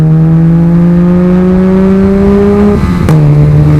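A Mazda RX-8 with an Akrapovic exhaust holds a loud, steady high-RPM rev up close, its droning tone climbing slightly before breaking off and settling lower.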